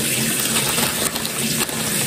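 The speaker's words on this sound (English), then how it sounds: "we're gonna turn the water off" Loud, continuous rush of water running from a bathroom tap during a morning face-washing routine, a close, steady gush with slight splashing variation.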